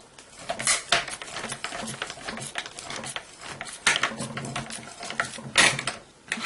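A sewing machine stitches appliqué flowers for a country birdhouse piece, a close, busy, rapid mechanical patter with small stops and restarts.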